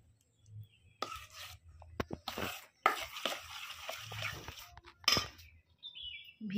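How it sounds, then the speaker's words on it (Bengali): Lid taken off a pot of semolina soaked in milk, giving a few close metallic clinks and clattering scrapes in short bursts between quiet gaps. "এবার ঢাকা খুলে নিচ্ছি"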